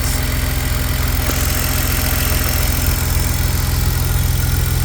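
A BMW E46 engine with headers and an aftermarket intake idles smoothly and loudly up close, a steady even rumble with no ticking and no voices.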